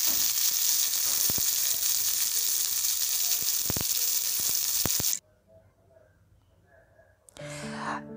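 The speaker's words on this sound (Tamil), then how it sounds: "இப்போ அதை தாளித்து எடுத்தாச்சு" Tempering spices sizzle loudly and steadily in hot oil for curd rice, with a few stirring clicks. The frying cuts off abruptly and leaves quiet room tone, then a voice speaks at the end.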